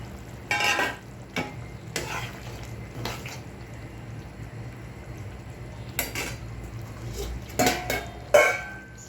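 Tomatoes going into a simmering pot of coral fish and drumstick curry, with scattered metal scrapes and clinks of a spoon against the pot over a low bubbling sizzle, closely miked, with no speech.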